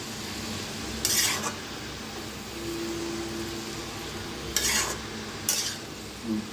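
Ground masala paste being stirred into potato and cabbage in a pan, with bursts of scraping spoon strokes against the pan over a low steady sizzle, close and moderately loud.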